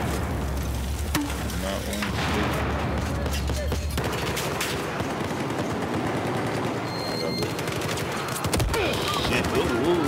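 Battlefield 4 gunfire crackles in dense, continuous bursts of automatic shots and distant blasts, busy and loud throughout the whole stretch.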